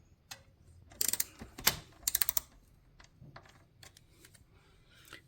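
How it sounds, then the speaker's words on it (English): Bike crank bolt being worked loose with a 5mm Allen wrench on a bicycle bottom bracket, a quiet series of sharp metallic clicks and ratcheting taps in short irregular bursts, up close with no talk. "Now we have to remove this bolt and the other one from the other side. We need a 5mm Allen wrench."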